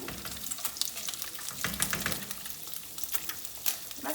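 Minced garlic sizzling in a hot pan alongside octopus, a steady crackling fry with bursts of stirring and spattering, close and continuous with no talking.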